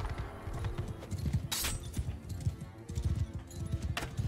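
Horse hooves clip-clop continuously in a medieval battle in the video game Mount and Blade II: Bannerlord, a rapid galloping rhythm close by with occasional sharp clashes of combat mixed in.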